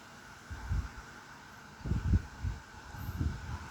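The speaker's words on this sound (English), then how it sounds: "it's fucking windy as fuck" Strong gusty wind blowing outdoors on a very windy summer day in West Virginia, heard as faint, uneven low buffeting rumbles that swell and fade in several gusts.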